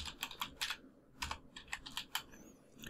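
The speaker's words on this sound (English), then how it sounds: "in your search bar," Fingers tap out a short burst of quick, irregular keystrokes on a computer keyboard, close and fairly quiet, with a brief pause before the clicking resumes.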